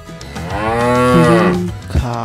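A cow in a children's animal game gives one loud, close, drawn-out moo that rises and falls, followed by a shorter low grunt.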